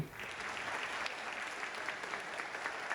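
Audience applause after a bandura concert at a cultural festival in Ankara: dense, continuous clapping from a crowd, even and sustained at a moderate distance.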